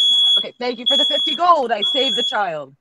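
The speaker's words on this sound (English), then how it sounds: "That was a fire alarm going off, wasn't it?" A smoke alarm in a house beeps with a steady, piercing high tone that runs continuously beneath a man's close, animated talking.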